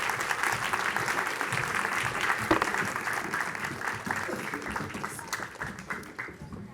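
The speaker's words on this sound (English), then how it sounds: "A round of applause, please." An audience claps for volunteers at a children's winter lecture on dinosaurs, a full, even round of applause lasting several seconds with scattered louder claps.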